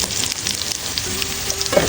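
Garlic browning in oil for mongo stew sizzles in a dense, loud hiss from a close pan, steady throughout with faint stirring.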